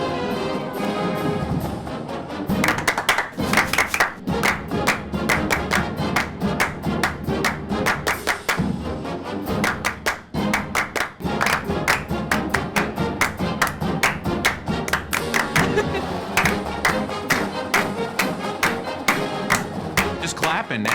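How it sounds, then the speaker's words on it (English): A group of people clap in rhythm at a sports event, sharp regular claps repeating steadily over about twenty seconds, fairly close and without any band playing. "Just clapping now."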